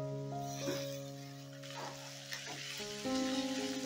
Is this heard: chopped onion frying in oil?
yes